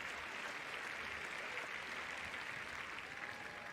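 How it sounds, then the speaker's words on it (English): A stadium crowd cheers at an Olympic women's 100m race in Tokyo as the sprinters are introduced by lane. The roar is steady, broad and continuous, heard from a distance with no talk over it. "Now listen to the cheer."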